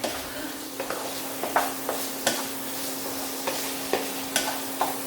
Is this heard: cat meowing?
no